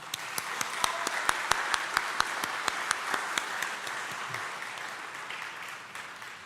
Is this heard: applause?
yes